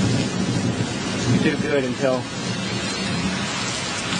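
Heavy rain pours steadily during a thunderstorm in Meridian, Mississippi, a dense loud hiss with a low rumble of thunder rolling underneath, while a voice speaks briefly over it.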